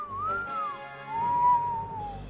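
A person whistles a playful imitation of the R2-D2 droid from Star Wars, two rising-and-falling warbling phrases with a short break between them, close and clear with no talking.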